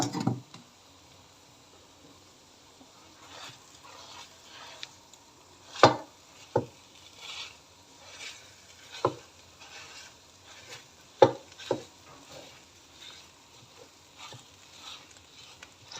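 Bread pieces stir-fried with egg mixture for roti goreng, a soft sizzle under scattered sharp scrapes and taps of a spatula breaking up the pieces in the pan, with no talking.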